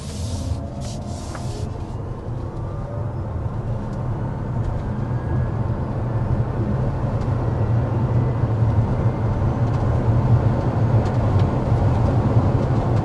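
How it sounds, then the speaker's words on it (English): A 2024 Toyota RAV4 Prime accelerates to 60 mph on electric power alone, with no engine note, just a steadily building rumble of road and tyre noise and a faint motor whine heard from inside the cabin. "that was an acceleration to 60 miles an hour with only the electric motors and the battery pack"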